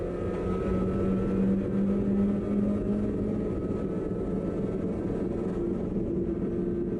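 A race car's engine drones steadily from onboard on a dry track during a sprint race, a loud continuous hum with a pitch that shifts slightly as it moves into fourth gear.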